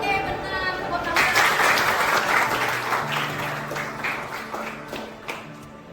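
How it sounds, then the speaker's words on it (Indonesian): Students at a school project presentation in Bali break into sustained applause, dense and fairly close, with some sharper individual claps and voices murmuring underneath. "Tepuk tangan."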